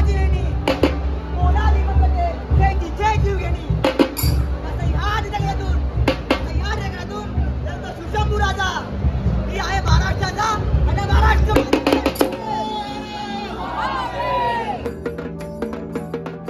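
Crowd noise at the Gudi Padwa procession in Girgaon: a loud, continuous babble of many voices with sharp percussive hits and tonal, music-like sounds mixed through it.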